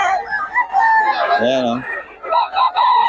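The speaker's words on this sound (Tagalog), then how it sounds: "Daming manok dito mga idol." A rooster crows loudly and close by at a crowded early-morning cockfighting gathering in Bocaue, with other fowl and people talking in the background.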